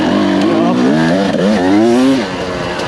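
A 2022 TM EN300Fi dirt bike engine lugs in second gear, a loud, close, rising and falling mid-pitched drone running continuously with the throttle changes.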